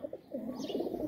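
Rooftop pigeons coo in a quick series of soft, throaty, rolling calls, fairly close but quiet, heard alone without speech over about a second.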